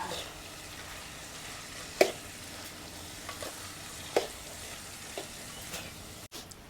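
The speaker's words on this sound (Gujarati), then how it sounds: "અડધી ચમચી મીઠું નાખી દઈશું હવે આને મિક્સ કરી નાખશું" Shredded cabbage curry seasoned with salt and coriander-cumin powder sizzles softly in a pan while a spoon stirs it, with a few sharper scrapes against the metal and no voices.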